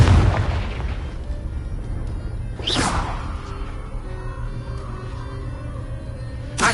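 Confringo explosion spell cast in a fantasy video game: a loud boom at the start, then a sharp whooshing burst near the three-second mark over a steady rumbling background that fades into a low hum.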